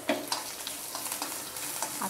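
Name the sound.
tempering of spices sizzling in a kadhai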